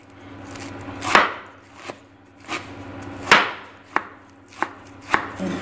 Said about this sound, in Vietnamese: Thái thật mỏng cho vào giỏ